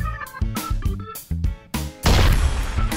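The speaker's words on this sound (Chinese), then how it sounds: "然后就是很多人说的手雷爆炸特效" In a shooting video game, a grenade goes off with a loud, heavy blast and lingering roar, after a series of sharp, punchy game sound effects.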